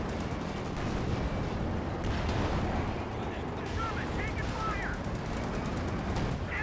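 Anti-tank guns fire on Sherman tanks in a Company of Heroes 2 battle, a dense, continuous din of distant cannon and gunfire blending with battle noise and a commentator talking throughout.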